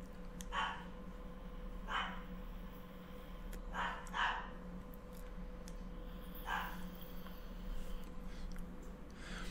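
A dog barks repeatedly in the distance, with about five or six faint, irregular barks, some in quick pairs, over a steady low electrical hum.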